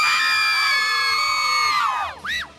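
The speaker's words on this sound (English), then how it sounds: "Let's hear you scream." A crowd of fans at an indoor soccer match between Anaheim Bolts and Revolucion Tijuana screams and cheers loudly in a sustained, shrill roar that breaks off, followed by a short final burst of yells.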